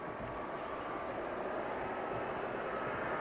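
An airliner on approach to land at Heathrow Airport in a crosswind, heard as a steady, loud broadband engine roar that holds constant throughout with no voices.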